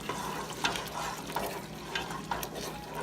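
Corned beef dropped into bubbling jollof rice sauce sizzles steadily in the pot, with soft stirring scrapes and spatters recurring every half second or so, fairly close and moderately loud.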